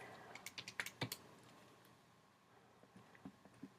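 Keys tapped on a computer keyboard to enter values, a quick cluster of close, crisp clicks followed by a pause and a few sparser taps, quiet and without talk.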